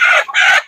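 A chicken on a tiger-breed poultry farm gives a loud, close two-part squawking call, brief and alone.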